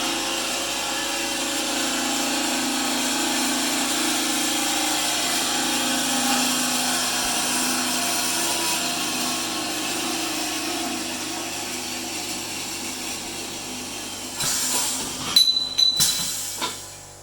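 An automatic metal band saw cuts through a workpiece with a steady, continuous mechanical hum and hiss, followed by a few sharper clanks and knocks near the end.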